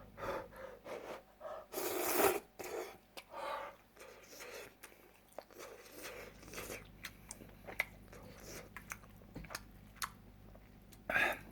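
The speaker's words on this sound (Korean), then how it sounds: "열라면 이거 계란 두 개 넣어서 먹으니까" Someone eats cup Yeul Ramen cooked with two eggs, producing close, irregular slurps and chewing sounds with occasional clicks, with brief quiet talk.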